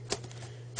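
A laptop keyboard pressed and seated into place during a motherboard replacement: two sharp, close plastic clicks about two-thirds of a second apart over a steady low electrical hum.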